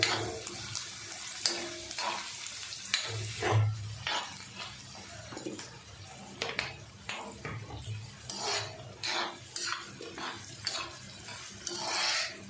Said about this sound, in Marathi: आणि चार पाकळ्या लसणाच्या टाकून घेऊया आणि थोडं परतून घ्यायचं